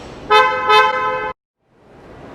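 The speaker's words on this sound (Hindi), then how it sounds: "अगर हम सोनेट को अनलॉक करते हैं तो कुछ ऐसी साउंड आएगी" Horn chirps from unlocking a Kia Sonet and a Kia Seltos: two short, loud, close toots that run into a sustained tone, followed by a sudden silence and faint background hiss.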